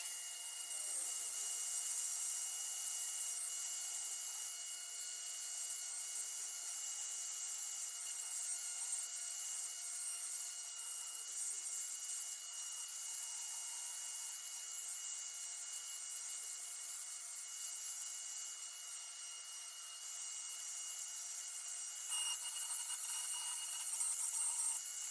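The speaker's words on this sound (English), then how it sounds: "We're going to have a little bit more work with our ruby carver. I'm going to smooth him up" Ruby carver smoothing a wooden carving, a faint, steady high-pitched whirring grind that runs continuously and evenly, with no talk.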